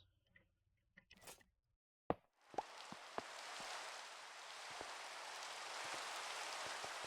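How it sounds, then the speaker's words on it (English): Steady rain in the Minecraft video game, a dense hiss that sets in after a couple of seconds and holds evenly, broken by a few sharp clicks and taps; no one speaks. "the sound of the rain doesn't get annoying"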